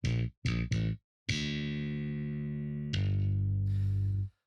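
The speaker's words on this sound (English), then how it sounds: "listening to the sort of pluck sound of the bass" An aggressive plucked bass sits in a music mix, with a few short punchy notes followed by longer sustained ones that ring out before stopping.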